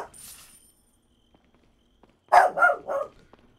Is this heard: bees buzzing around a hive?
no